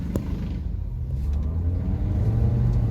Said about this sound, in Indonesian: Oke, kita gaspol.